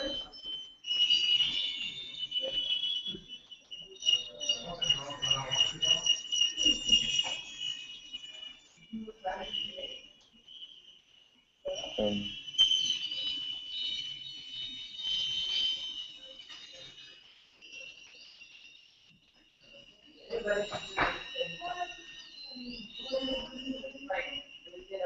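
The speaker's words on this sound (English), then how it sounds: "now you can change the pitch of the tone just by rotating the potentiometer" An Arduino-driven piezo buzzer sounds a sustained electronic tone in repeated bursts and gaps, its pitch shifted by turning a potentiometer, fairly loud and close, with some spoken voice between the tones.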